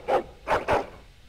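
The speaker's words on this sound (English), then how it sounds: "But why is he barking in the first place?" A dog in the Dragon Age Origins video game gives three quick, close barks, one single and then a tight pair, with no speech.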